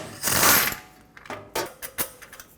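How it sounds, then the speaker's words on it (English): A 13 mm ratchet works a bolt loose on a 2009-2014 Ford F-150 with the 5.4L engine, near the starter and passenger-side catalytic converter: one louder burst of clicking, then several short, separate ratchet clicks, close and alone. "Use a 13 millimeter and get that bolt off."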